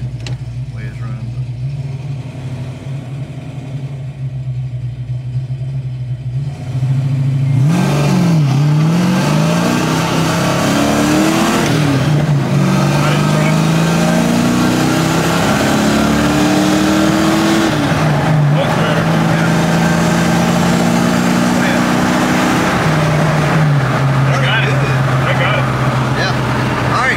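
A Ford 5.0 Mustang with a faulty transmission idling, then accelerating hard at a drag-racing test spot, the loud engine note climbing and dropping in pitch through several pulls, with talk heard over it.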